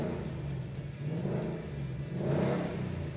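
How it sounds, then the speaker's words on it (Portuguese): A Ford Mustang's 5.0-litre V8 rumbles and revs steadily for a few seconds, a deep continuous engine roar that swells slightly toward the end, with no talking. "só para mostrar para vocês a delícia que é esse ronco do motor"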